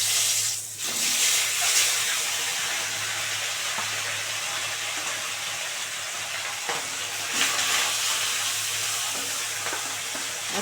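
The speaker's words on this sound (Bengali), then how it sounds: "এবারে মাছগুলো দিয়ে দেবো একটা একটা করে।" Pabda fish fry in hot oil in a kadai, a steady close hiss and sizzle with occasional small pops and stirring sounds, no voices.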